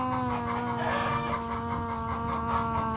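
Steady clucking from a chicken in a dinosaur survival video game, repeated throughout over a constant tonal hum of background music, fairly loud and close.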